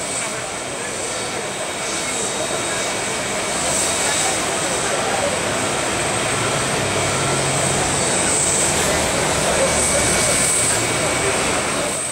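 An airplane's engine roars steadily in a loud, continuous drone throughout, with people talking faintly underneath.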